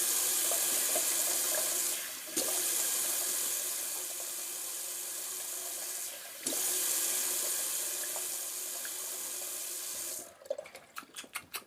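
Running tap water pours steadily into a sink while alum is rinsed off after shaving. The flow is loud and continuous, broken by two brief dips, and gives way to splashing and dripping at the end.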